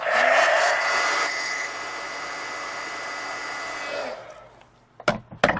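Steady hot-air blast of a heat gun drying marker ink on a coloring page, loud and continuous for about four seconds before cutting off, followed by a few short handling knocks.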